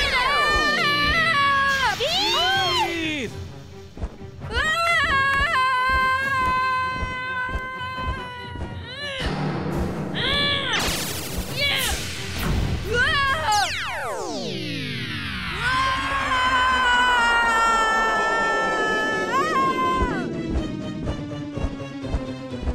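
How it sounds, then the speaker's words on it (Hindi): In an animated kids' cartoon, a flamingo-like robot gives off loud, shrill screeches, a dense run of piercing, swooping electronic cries that rise and fall repeatedly over a busy soundtrack for more than twenty seconds. "देखिए उसके चीखने की कितनी आवाजें आ रही हैं।"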